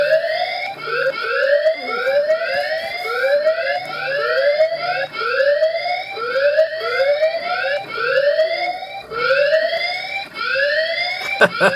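A video doorbell's tamper alarm repeats a loud, rising, whooping electronic tone over and over in a steady rhythm, piercing and close.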